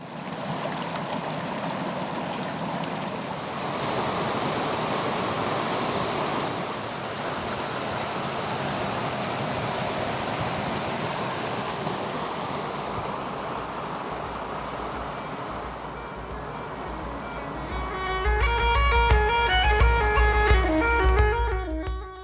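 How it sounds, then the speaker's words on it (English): A small waterfall in Britain rushes in a steady broadband hiss, fairly close and continuous, with a brief rise in intensity and some faint tonal sounds near the end. "We saw this little waterfall and had to get some shots."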